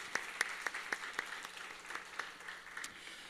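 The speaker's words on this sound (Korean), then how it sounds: "우리 다시 한번 큰 박수로 감사해." A church congregation at a Friday worship service applauds, with sharp claps at first settling into steady, fairly faint applause that carries on for a few seconds.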